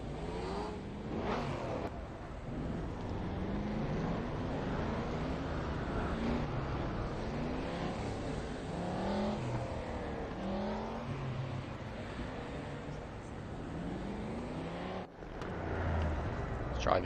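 Race car engines from the 1992 DTM touring cars in RaceRoom, revving repeatedly as drivers practice starts at the Nordschleife, a steady layered drone of several engines rising and falling together, moderately loud and continuous.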